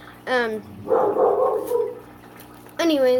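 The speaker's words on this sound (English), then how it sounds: "sorry if you hear dogs barking in the background" Dogs barking in a house, two sharp close barks at the start and end with a person talking in between.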